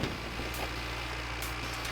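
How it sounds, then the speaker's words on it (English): Tractor engine in the video game My Winter Car, a steady low drone with constant loudness over two seconds and no talk. "Is the tractor noise slightly more manageable now?"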